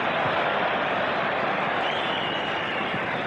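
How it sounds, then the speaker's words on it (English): A football crowd at a France versus Brazil match applauds in a broad, steady wash of clapping and crowd noise, distant and unbroken for the whole moment. "It's the Brazilians they're applauding at the moment"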